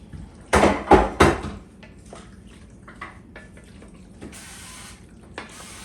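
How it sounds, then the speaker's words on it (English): Short hissing bursts of cooking spray hit a baking dish for baked ziti, three quick loud pumps close up, followed by faint clinks and a final softer hiss. "I'm going to spray this last dish"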